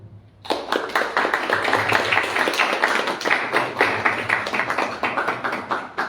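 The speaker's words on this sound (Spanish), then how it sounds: "con fuertes palmas, a Henry León." A crowd bursts into strong, sustained applause after a brief quiet start, dense clapping continuing steadily and loudly throughout.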